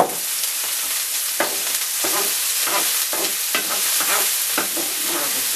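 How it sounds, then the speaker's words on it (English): Mince being stirred in olive oil in a frying pan, a loud close sizzle with repeated scraping strokes of a utensil at a steady rhythm, no voices. "Just moving it all around so that the olive oil really covers"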